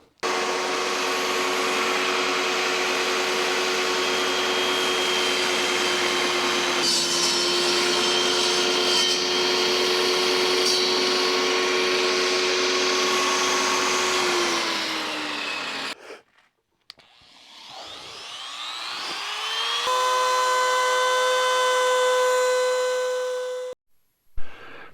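A table saw runs loud and close with a steady motor whine for about fifteen seconds, cuts out, then spins back up and runs again before stopping.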